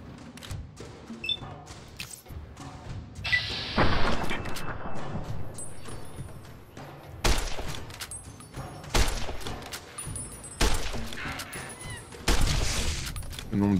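Gunfire in the PC game Fallout New Vegas: repeated loud shots and bursts arrive in sharp clusters across the clip, with impacts and thuds between them and a voice talking faintly underneath.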